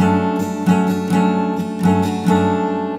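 Clean acoustic guitar picks out a riff from a song, ringing notes in a steady repeating pattern, close and clear with no voices.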